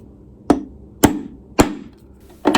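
Four sharp, ringing hammer strikes on a nail, evenly spaced and close, marking a center point on a wooden dresser drawer for a knob.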